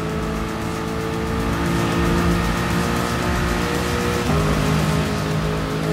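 Race car engines at Monza in the video game GT Sport, a loud continuous high engine drone holding steady with a slight pitch shift partway through, close and unbroken, with no talk.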